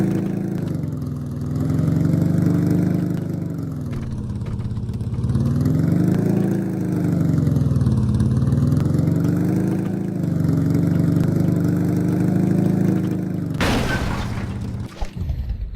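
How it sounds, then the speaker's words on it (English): A deep, throaty car engine in the video game Martial Law idles steadily and loudly, its rumble swelling and easing in slow waves, with a brief sharp crash near the end. "Very meaty engine, clearly."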